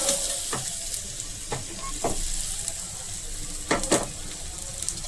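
A protein chilla fries in oil in a pan with a steady, close sizzle, broken by a few soft scrapes and stirring clicks.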